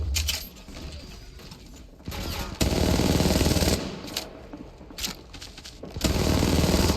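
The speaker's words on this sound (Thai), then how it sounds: "มีคนยิงมาที่ฉันกำลังชาร์จต่อ" Gunfire in Apex Legends Mobile, bursts of rapid automatic shots aimed at the player, loud and close, starting and stopping in several clusters with sharp individual cracks between them.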